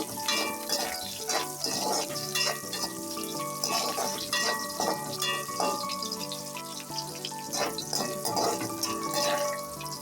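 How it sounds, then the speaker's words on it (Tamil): Whole cinnamon, cloves and cardamom with biryani masala sauté in a pan for chicken gravy, giving a steady close sizzle with frequent light stirring clinks throughout. "அதையும் சேர்த்து வதக்கி கொள்கிறேன்."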